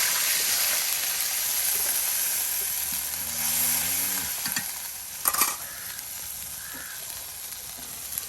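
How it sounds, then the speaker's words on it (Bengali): Onions and cumin frying in oil in a pan, a steady bright sizzle with occasional stirring scrapes and clinks and a faint low hum in the middle; no one speaks. "এই যে জিরা দিয়া একদম দেখুন তেলের সাথে পেঁয়াজগুলো একদম ভাজা ভাজা হয়ে গেল"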